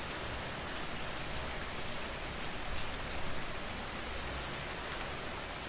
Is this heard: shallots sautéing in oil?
no